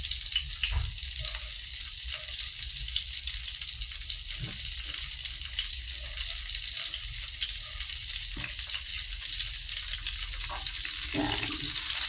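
Tortang talong, an eggplant omelette, sizzles and fries steadily in a pan, a constant close crackle with faint clinks of a utensil now and then.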